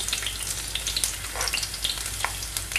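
Ginger and garlic hit hot oil for a Kottayam-style kingfish curry, giving a dense, continuous hiss of frying, close and steady, with a few light clicks and no voices.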